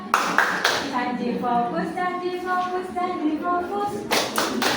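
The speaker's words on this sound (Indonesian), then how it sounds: "kita sedikit dulu tepuk semangat" A school class at an Islamic girls' madrasa performs a rhythmic clapping chant, with sharp claps at the start and end around a sung, chanted passage of voices.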